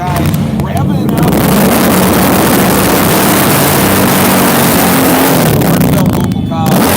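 Car engines rev loudly at a Halloween parade in Bettendorf, Iowa, a dense, steady roar filling the whole stretch, with crowd voices and talk mixed in underneath.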